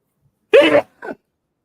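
A single violent sneeze, loud and close, erupts in one sharp burst followed by a shorter, softer after-sound, with silence around it.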